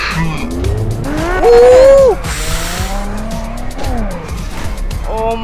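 A turbo Supra in GTA 5 tears along at high speed, engine roaring close and loud, with a long rising tire squeal as it skids, while a voice talks excitedly over the racing.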